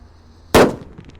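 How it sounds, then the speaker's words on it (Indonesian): A small green Mercon Powerman firecracker goes off in a hole in the ground outdoors in the late afternoon, one sharp, loud bang that decays quickly into a short rumble. "Lanjut di sini ada Mercon Powerman yang warna hijau guys."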